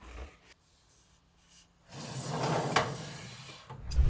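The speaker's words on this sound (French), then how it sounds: "je vais pouvoir avancer et pousser le tiroir" A wooden drawer in a sewing workshop slides shut with a soft rubbing glide and a close thump at the end, after a near-silent pause, no talking.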